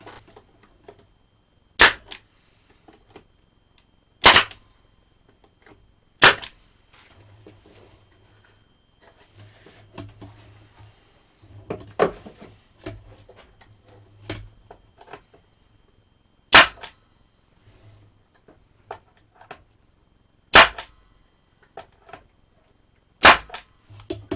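A pneumatic nail gun dry fires with its air running out, giving several sharp, loud isolated snaps spaced seconds apart, with quieter clicks and workshop handling in between.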